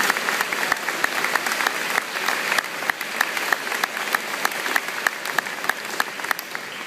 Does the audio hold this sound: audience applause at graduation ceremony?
yes